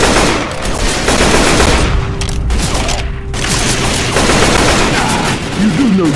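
Rapid automatic gunfire in the Left 4 Dead 2 video game, loud bursts of rattling shots with a brief pause midway, mixed with game effects and short shouted voices.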